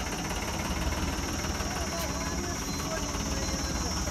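A 2008 Sonalika DI 750 tractor runs at a steady, loud diesel idle with a broad, even rumble at a tractor market in Barnala, Punjab.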